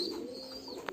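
Pigeons cooing in a loft housing over a hundred pairs of mostly Giribaz and Khaki birds, a soft continuous low coo close by with a brief brighter flutter near the end.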